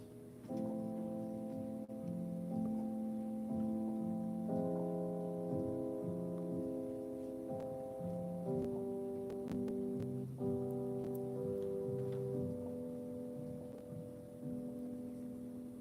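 A sequence of sustained harmonic chords played one after another at a steady pace, clear and alone with no voices.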